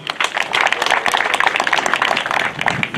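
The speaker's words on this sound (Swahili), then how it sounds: "Makofi kwao kidogo." An audience claps in applause at a university graduation ceremony. The clapping is dense and steady, fairly loud and close, and lasts the full three seconds without letting up.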